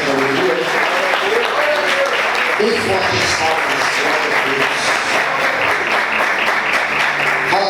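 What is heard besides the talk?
church congregation applause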